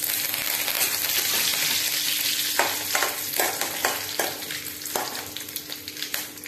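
Curry leaves, mustard seeds, urad dal and cumin sizzle loudly in hot oil for a beans buttermilk stew, a dense continuous crackle broken by several sharp spatula stirs and scrapes near the end, with no talking.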